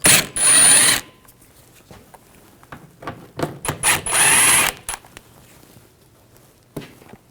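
A ratchet with a T15 socket backs out trim panel screws on a 2014-2018 GMC Sierra 5.3L V8, making loud bursts of rapid clicking between quieter pauses and short ratcheting strokes, close up with no talking.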